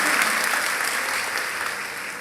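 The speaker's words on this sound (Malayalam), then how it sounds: "ഒരു കൈയടി അവന് കിട്ടിക്കോട്ടെ." An audience claps steadily for a person being honoured during a priest's talk, producing dense, continuous, fairly loud applause that holds for the whole stretch and tapers only slightly near the end.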